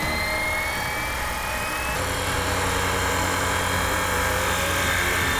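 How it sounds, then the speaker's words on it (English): An RC Fly Wing Huey UH-1 Version 3 model helicopter runs up outdoors beside a second Huey, its rotors and motor making a steady, close, loud whine and whir that rises slightly in pitch, with no talk over it. "All right, Steve, let's see those props spin."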